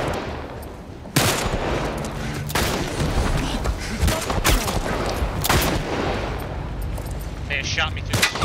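Gunfire from The Last of Us Part II, PC version, with loud close shots and rapid bursts cracking repeatedly over rumbling game sound, a player's voice speaking intermittently underneath.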